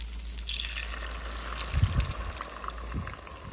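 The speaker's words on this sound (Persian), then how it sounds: "در گمج رو بذاریم که یه 10 دقیقه قل بخوره." Chicken and dill simmering in broth in a covered clay pot: a steady low bubbling hiss with a few louder pops near the middle, close and continuous.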